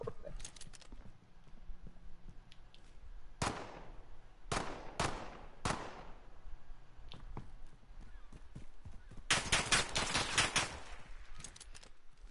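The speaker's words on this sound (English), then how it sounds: "Somebody was shooting at me." Gunfire in the first-person shooter Call of Duty: several sharp, isolated shots, then a rapid burst of automatic fire, over a low game background.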